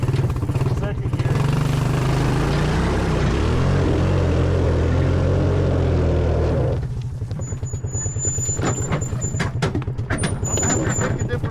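A Honda Big Red three-wheeler engine runs loud and steady at close range, its low rumble shifting pitch partway through as it is put into second gear, with a rapid putter continuing afterward and faint high tones above.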